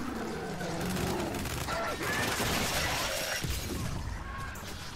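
Gears 5 combat fills the scene with rapid gunfire and crashing impacts in a dense, continuous barrage that stays fairly steady throughout.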